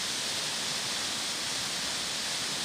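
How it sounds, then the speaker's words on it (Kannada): A huge waterfall on the Charmadi Ghat road roars as a dense, unbroken rush of water, loud and constant with no other sounds above it. "ಬೃಹತ್ ಜಲಪಾತ ಸೃಷ್ಟಿಯಾಗಿದೆ."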